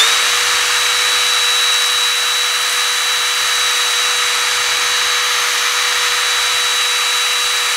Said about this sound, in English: Just gonna give it a quick sand.